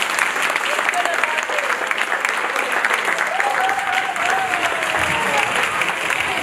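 Wedding guests at a civil ceremony in Troyes applaud the groom loudly, a thick continuous clapping from a crowd while a voice speaks over it and a few cries rise above the noise.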